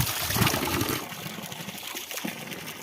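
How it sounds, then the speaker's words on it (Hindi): Continuous mountain stream water flowing and trickling nearby, steady and fairly loud, with a louder gushing stretch at the start before settling into an even rush. "बस पानी चल रहा है कंटिन्यू ऐसा।"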